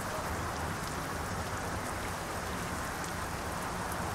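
Steady rain at the Helsinki container port makes a dense, even hiss throughout, close and unbroken with no voices.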